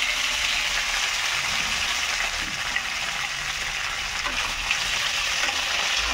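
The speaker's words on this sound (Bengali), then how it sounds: "লাউটা দিয়ে দিলাম।" Pre-boiled, small-cut bottle gourd pieces fry in a hot pan, giving a constant close sizzle with faint stirring scrapes and a steady, even level throughout.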